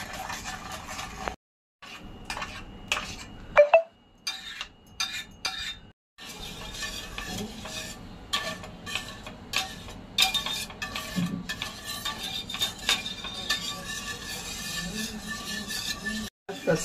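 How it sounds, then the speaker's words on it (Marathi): A spoon stirring milk mixed with custard powder, milk powder and sugar for mango ice cream, giving light irregular clinks and scrapes against a bowl, close and soft, under a person talking. "ह्या दुधामध्ये ही एकजीव करून घेऊया आणि ह्याच्या गुठळ्या मोडून घेऊया"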